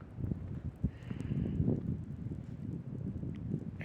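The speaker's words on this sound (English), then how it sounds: "High winds right now. You hear the wind?" Strong wind whipping through a winter blizzard on Staten Island, New York, a steady low roar that buffets close to the microphone with a few sharper gusts.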